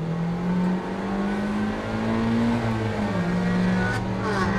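Mazda MX-5 ND race cars in a Roadster Cup race accelerating side by side, a loud, steady engine drone rising in pitch as they pull hard, then dipping briefly at a gear change before climbing again.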